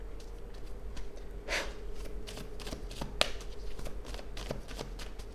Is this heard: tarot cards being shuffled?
yes